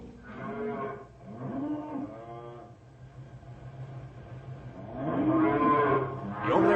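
Cattle mooing in an old-time radio western about cattle rustlers, several long lowing calls from a herd, one near and loud, others softer, with a faint background hum.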